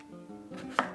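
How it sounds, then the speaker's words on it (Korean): A kitchen knife slicing a cucumber into rounds on a cutting board makes a short, close series of soft cuts ending in one sharper knock on the board. "볶음용 오이는 동그랗게 썰어주세요"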